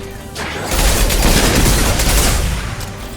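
Gunfire in Mass Effect 2 Legendary Edition erupts after a brief quieter lead-in, then holds as a loud, sustained burst of overlapping shots and booms to the end.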